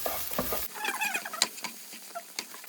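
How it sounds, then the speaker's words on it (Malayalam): Egg puff masala filling is stirred in a pan, giving faint, uneven scraping and light pattering sizzle up close. "ഇത് നന്നായിട്ട് ഇളക്കി കൊടുക്കണം ഒന്ന് മസാലയൊക്കെ നന്നായിട്ട് പിടിക്കണുള്ളൂ"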